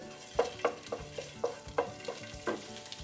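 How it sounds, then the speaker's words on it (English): Ginger garlic paste frying in a pan over medium flame, stirred with about eight quick, rhythmic spoon scrapes over a soft, faint sizzle. "ginger garlic paste, which is half teaspoon, and we are going to stir it"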